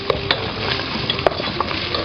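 Minced meat and boiled potatoes are stirred in a hot pan, giving a steady sizzle with scattered scraping clicks and a few sharper knocks of the spoon, close and continuous with no talk.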